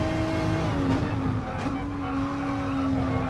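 A Renault RS01 Gr3 race car at Laguna Seca in GT Sport, its engine held at wide open throttle in a steady, close, high-pitched drone that dips briefly mid-run and then climbs again.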